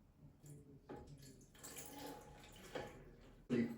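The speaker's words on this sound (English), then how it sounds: "add exactly 280 milliliter of water in there." Water poured into the pan of a Panasonic SD-R2530 bread maker, a soft, close trickling and splashing that runs for a few seconds, quiet overall.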